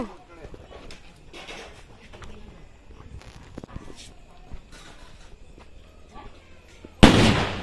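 During a village Diwali celebration in Jamnagar, Gujarat, a firecracker goes off with a single loud, sharp burst near the end, after a stretch of people talking amid background noise.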